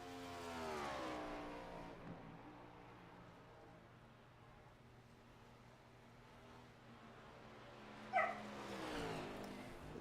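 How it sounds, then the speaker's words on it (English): A dog barks a couple of times, faint and distant, over the steady drone of race car engines during a sim racing qualifying session. "The dog barks"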